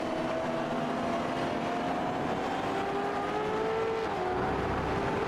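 A V8 Gen3 Supercar in the iRacing sim at Interlagos accelerates under full throttle, its engine note climbing steadily in pitch as it pulls away, loud and continuous with no talk over it.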